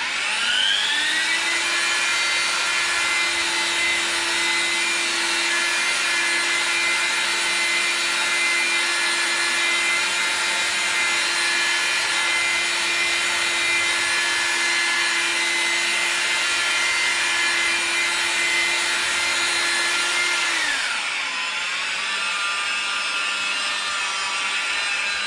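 Machine polisher compounding scratches on a BMW M140i rear door, a steady high-pitched motor whine with rubbing hiss held loud for about twenty seconds, then dropping in pitch as it slows.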